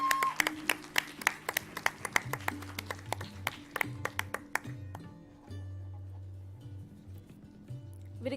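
A sparse round of clapping greets debate competition participants, starting as scattered individual claps that thin out and fade after a few seconds, with a low hum underneath.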